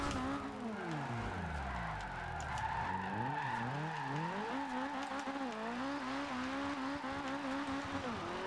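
A Subaru BRZ drift build in Forza Horizon 2 slides uphill, its engine revving and swooping in pitch while tires squeal steadily, loud and continuous with no talk.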